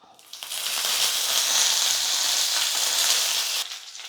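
Tempering of mustard seeds, urad dal and curry leaves in hot oil: a loud, bright sizzle swells in quickly, holds steady with faint crackles, then drops away near the end.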